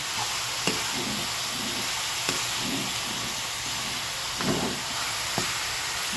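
Ground pork sautéing in a pan for ginisang giniling, a steady close hiss of frying with occasional stirring scrapes.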